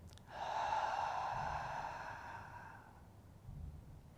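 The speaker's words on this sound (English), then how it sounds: "breathing out slowly." A slow, controlled exhale during diaphragmatic breathing, a soft airy breath close to the listener that swells quickly, then tapers gradually over about two and a half seconds in a quiet room.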